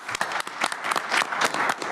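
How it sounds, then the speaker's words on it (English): Dense clapping from a crowded room at a transportation committee meeting, close and lively, a short burst of applause with no talking over it. "Then a final round of applause."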